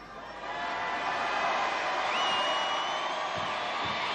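A television studio audience at a 1976 Christmas knockout contest sends up a broad, sustained wash of cheering and crowd noise that swells in after a moment and holds steady, fairly loud and distant, with no clear claps.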